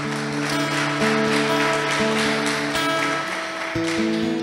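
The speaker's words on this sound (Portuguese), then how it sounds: "Pode aplaudir, irmãos." A church congregation applauds together in a steady, dense wash of clapping that runs throughout, mixed with sustained organ or keyboard chords playing underneath.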